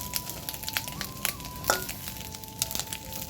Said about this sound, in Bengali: ডিমগুলো ভাজছি অনেকক্ষণ ধরে আস্তে আস্তে দিয়ে, মানে গ্যাসের কমিয়ে দিয়ে ভাজছি